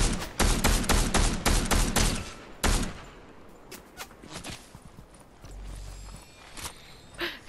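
Video game gunfire from the left: a rapid volley of sharp, loud shots in the first seconds, then a single heavy crack, followed by scattered distant pops and low rumble.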